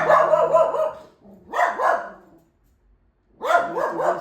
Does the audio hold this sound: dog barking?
yes